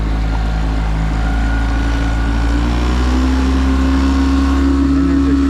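A 162 Pro Tracer motorboat engine drones steadily and loudly during a water test, with a low throbbing hum that rises slightly in pitch as it's given more throttle, alongside wind noise.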